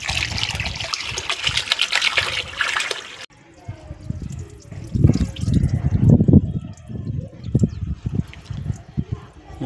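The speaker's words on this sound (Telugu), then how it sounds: "ఉల్లిగడ్డ చికెన్ మంచిగా కడుక్కోవాలి." Raw chicken pieces being washed in water with onion in a home kitchen, giving a running trickle and splashing for the first few seconds, then quieter swishing and sloshing under a person talking.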